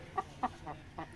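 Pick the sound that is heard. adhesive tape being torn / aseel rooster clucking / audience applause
aseel rooster clucking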